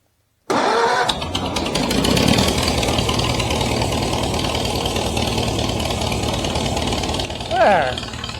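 A 1940 Farmall A tractor engine fitted with a different starter cranks and fires, then settles into a loud, choppy, close running beat that lasts for several seconds, with brief talk at the end.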